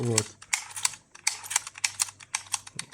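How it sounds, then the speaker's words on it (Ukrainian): Gritty clicking crunches from a squeeze-dynamo flashlight, its worn gear teeth slipping as the lever is pressed, repeating in short irregular bursts close to the microphone. "Коли я натискаю, ось тут такий хруст. Щось там проскакує."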